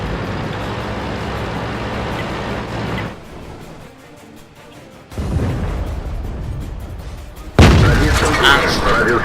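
An artillery shell slams into the player's Tier VI Russian heavy tank in World of Tanks: a rumbling engine drone, a quiet lull, then a sudden loud, close impact near the end.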